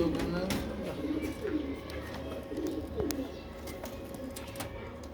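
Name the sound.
pigeons cooing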